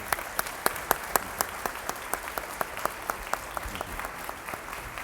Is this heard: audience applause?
yes